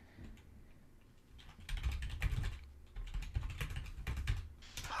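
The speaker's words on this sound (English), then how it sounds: "I'm typing in the wrong window" Rapid clicking keystrokes on a computer keyboard come in bursts with short pauses between them, close and clear, with no talking.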